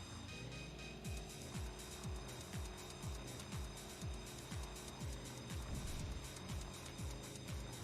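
A car driving in the game Smuggler's Run: Warzone, a droning engine with game music and rhythmic falling swoosh sounds repeating about twice a second, steady and fairly quiet, with no talk.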